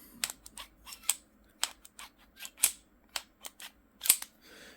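Repeated sharp metallic clicks and snaps in an irregular series, close and fairly quiet, from the slide of a Knighthawk Customs 1911 handgun being worked back and forth by hand.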